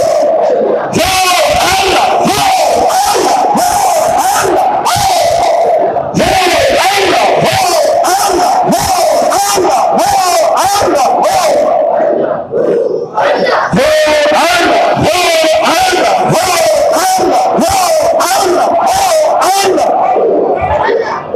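Large crowd at a religious gathering in Kahna, Lahore chanting zikr together, loud, massed voices in a rhythmic repeating call raising God's name, sustained and close with brief dips.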